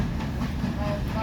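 A steam train on the heritage railway between Minehead and Watchet rumbles along as a steady, loud, continuous low roar, with no clear individual clatters and no talk.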